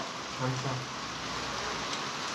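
Heavy rain falling at night outdoors, a dense, even hiss throughout with a voice speaking briefly near the start.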